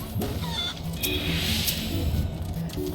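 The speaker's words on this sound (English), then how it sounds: "The chickens, they go everywhere!" Chickens clucking in Final Fantasy XIV, their calls scattered through a busy, steady wash of game sound effects and background music.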